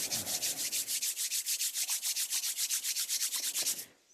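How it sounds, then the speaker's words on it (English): Two hands rub briskly together to warm up, a close, steady swishing friction repeated in an even rhythm of about twenty strokes before stopping. "which I do by rubbing my hands till they get a little bit warm"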